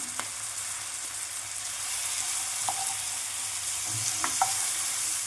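Spice masala with ginger paste frying in oil, a soft, even sizzle close by, with a few light taps and scrapes of stirring scattered through and no voices.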